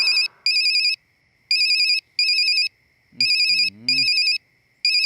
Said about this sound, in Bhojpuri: अरे तना राती के फोन करत बा भाई हैं? हेलो